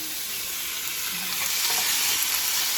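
Thin marinated steaks, taken straight from the marinade with a little oil, sizzle loudly and steadily on a grill, a continuous crackling hiss with no voices.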